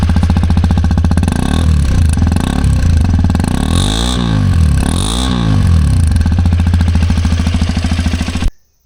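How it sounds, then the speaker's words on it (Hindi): Exhaust of an Xpulse 210 motorcycle, heard up close and loud: a steady idling thrum with two quick throttle blips midway, then an abrupt cutoff as the engine stops. "आपको अब एग्जॉस्ट की आवाज़ भी सुनाते हैं।"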